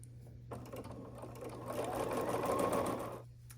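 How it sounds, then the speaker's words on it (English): A sewing machine stitches quilt pieces along a long edge with a quarter-inch seam, starting after a brief low hum and running in a steady, close whirring burst before stopping. "we're just going to sew along this long edge with a 1/4 inch seam allowance"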